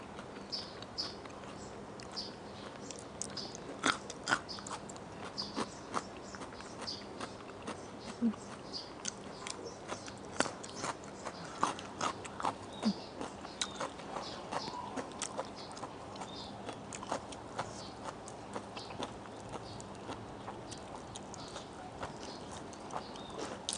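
Honey-pickled single-clove garlic being eaten: a long run of small crisp crunches and clicks from chewing, irregular and close but fairly soft, with no talking.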